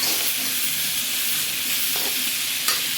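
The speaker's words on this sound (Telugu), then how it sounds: "తర్వాత క్యారెట్, బీన్స్, ఆనియన్స్ వేసేసాను." Carrots, beans and onions sizzle and hiss loudly in a pan over a high flame for vegetable fried rice, with a steady frying roar and a couple of faint stirring scrapes.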